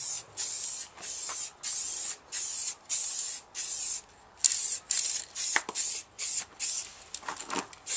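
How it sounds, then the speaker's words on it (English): Matte paint is sprayed onto a car in a garage, short sharp hissing bursts repeating in a steady rhythm with brief gaps, close and loud, with a few faint knocks between passes. "let's get spraying."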